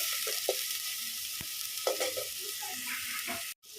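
Spices and turmeric sizzle in hot oil as a spoon stirs and scrapes a clay pot for fish curry, with a steady frying hiss and a brief cutoff near the end.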